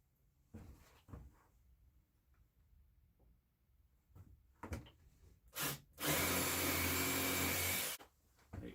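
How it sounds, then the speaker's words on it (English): A power drill bores holes to reinforce a corner of a wooden bench: scattered knocks and handling sounds, then a loud drilling burst of about two seconds that cuts off abruptly. "So let's get some holes drilled and get this thing reinforced on this corner."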